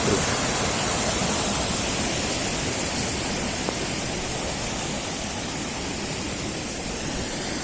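A swollen, flood-high river rushes past a small footbridge, a steady, dense roar of water that stays loud and unbroken throughout with no other sounds over it.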